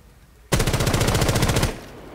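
Automatic gunfire in Rainbow 6 Siege, one unbroken burst of rapid, evenly spaced shots held for just over a second, loud and close, starting abruptly after a quiet moment and then cutting off.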